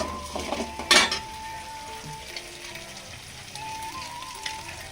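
Eggs frying with onions in hot oil for homemade chicken rice, a steady soft sizzle with one brief louder clatter of a utensil against the pan near the start.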